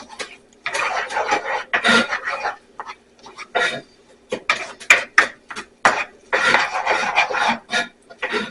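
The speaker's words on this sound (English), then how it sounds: "the onions are starting to get translucent and the mushroom stems are cooking up" Onions, garlic and mushroom stems sauté in a pan while being stirred, producing repeated close bursts of scraping and rasping against the metal in an uneven rhythm, fairly loud, with short gaps and no speech.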